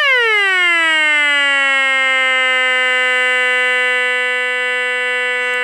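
A White's Goldmaster V/SAT metal detector switches on with a loud electronic tone that starts high, slides quickly down in pitch, then holds a steady, buzzy note alone.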